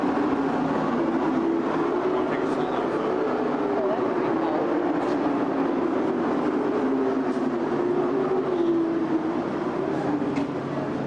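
Steady loud roar of a subway train riding along, a continuous rumbling drone with a tonal whine, with no pauses throughout.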